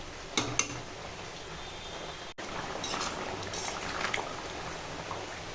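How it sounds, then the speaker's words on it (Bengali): Water pours into a cooking pot of meat and potatoes in a continuous hissing, bubbling rush that halts briefly and then resumes. No voices are present. "চলো জল দিয়ে দিই"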